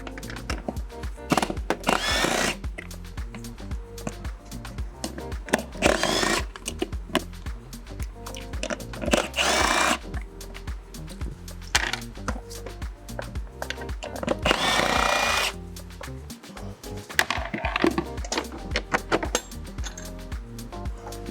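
A cordless power drill backs screws out of the seat hinge on a CSC E-RT3 electric scooter, with loud, close whirring bursts repeating several times and short gaps between them.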